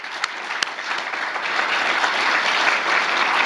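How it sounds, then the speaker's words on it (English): Audience applause for a speaker named Todd at a tech meetup talk on cognitive computing, a dense steady wash of many hands clapping that builds slightly and holds, with no voices over it. "a round of applause for Todd"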